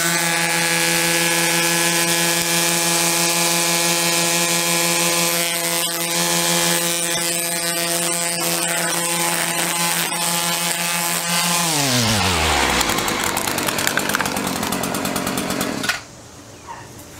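A string trimmer fitted with steel CF3 Pro trimmer line runs at a high steady whine, then its pitch sweeps down as it bogs and chatters against material before cutting off abruptly near the end, heard close and alone.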